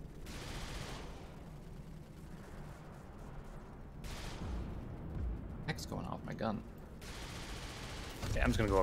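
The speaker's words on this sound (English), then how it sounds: "Gunfire, please." Sustained video game gunfire and explosions rumble continuously in a noisy battle scene, with bursts of rapid shots and booms throughout, a voice briefly audible underneath.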